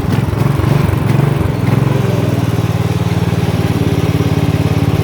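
A Murray off-road minibike's small engine runs steadily close by, with a loud, rough mid-pitched putter and a slight wobble early on before it settles into an even idle-like drone throughout.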